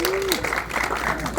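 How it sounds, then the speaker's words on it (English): Audience applause at a Los Angeles movie Q&A, a brief wash of crowd clapping with voices mixed in and a rising call near the start. "And a round of applause for you guys for being here."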